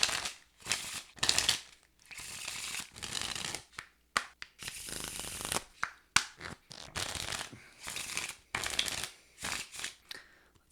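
Cabinetarium cards being shuffled by hand, repeated bursts of riffling and flicking with short pauses between them, close and crisp.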